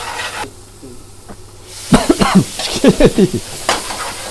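Spices and pre-cooked dal cook in a very hot restaurant pan for chicken tikka sambar, with a hiss starting up midway, then a quick run of sharp metallic stirring clatters close by.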